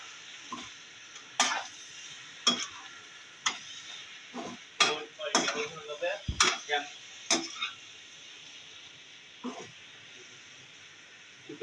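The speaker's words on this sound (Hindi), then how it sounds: "डाल के इसे अच्छी तरह इसके अंदर मिक्स कर देंगे।" Keema karela, minced meat with bitter gourd, is stirred in a pan over a low flame, a series of sharp spoon scrapes and knocks against the metal over a faint sizzle, with pauses between.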